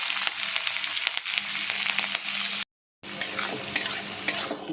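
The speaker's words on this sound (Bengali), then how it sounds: "বিনসগুলো দিয়েছি তেলের উপরে, দিয়ে ভালো করে একটু নাড়াচাড়া করে নিচ্ছি" Beans tossed into hot oil and stir-fried, giving a loud, close sizzle with frequent spatula scrapes against the pan, broken by one short silent gap before the frying resumes.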